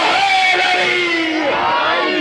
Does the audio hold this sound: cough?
no